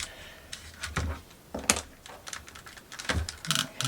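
Plastic clips on a DualSense controller shell being pried open, giving a series of sharp, irregular snaps and clicks spread over a few seconds, close and fairly quiet, with no talking.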